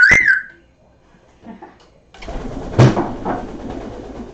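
A pet bird gives a sharp call, then after a quiet gap comes a burst of flapping wings and movement nearby, moderately loud and alone.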